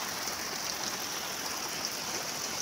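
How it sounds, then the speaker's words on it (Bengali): Heavy rain pours down around a village home where a tarp has been stretched for cover, making a steady, dense hiss that stays even and unbroken throughout, with no voices. "ঝমঝমিয়ে বৃষ্টি শুরু হয়ে গেছে দেখতে পাচ্ছ।"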